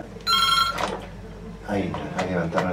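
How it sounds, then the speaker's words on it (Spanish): A telephone bell rings in a short, bright burst, then stops. A voice talks before and after the ring. "Ahí levantaron el teléfono, disculpa"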